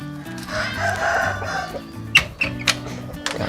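Chickens with a cold and noisy throats during damp, rainy weather cackle and crow up close in loud drawn-out calls, followed by a few short sharp clucks, with no one talking.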